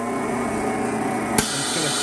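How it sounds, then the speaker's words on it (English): A VP 215 chamber vacuum sealer pulls the air out of its chamber with a loud, steady mechanical drone close by, broken by one brief sharp click midway. "It's going to pull all the air out the chamber."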